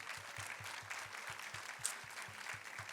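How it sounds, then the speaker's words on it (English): Audience applause at a film Q&A for a cinematographer: steady dense clapping from a crowd, continuous and even for about three seconds with no voices over it. "please give him a round of applause"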